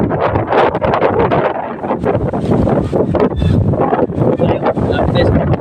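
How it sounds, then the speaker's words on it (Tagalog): Strong, steady wind roaring and buffeting the microphone throughout, with a voice talking faintly underneath. "Lakas ng hangin"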